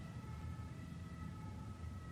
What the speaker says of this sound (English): it sounds like the police or an ambulance or a fire engine